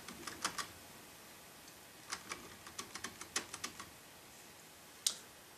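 Computer keyboard keys tapped while playing a Space Invaders Flash game: scattered quick clicks and short bursts of presses with pauses between, plus one sharper, louder key strike near the end, all fairly quiet with no talking.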